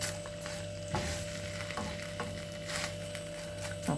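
Egg frying in a pan with shredded salt and chilli chicken strips, a steady broadband sizzle running throughout, with a few soft clicks and scrapes of a utensil being moved and a faint mains hum beneath.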